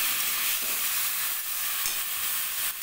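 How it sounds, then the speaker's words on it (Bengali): Taro leaves stirred and fried in a pan give a steady, close hiss of sizzling with soft scraping from stirring running through the whole stretch, with no voices. "কচু শাকটা দিয়ে খুব ভালো করে এর সঙ্গে মেশাবো।"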